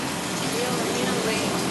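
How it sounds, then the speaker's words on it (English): Artificial rain from a studio rain rig falls in a steady, dense hiss, close and continuous throughout with no voices over it. "Control room, give me a little rain."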